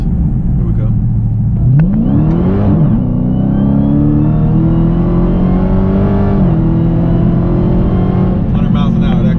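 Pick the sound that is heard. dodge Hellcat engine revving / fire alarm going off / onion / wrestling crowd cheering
dodge Hellcat engine revving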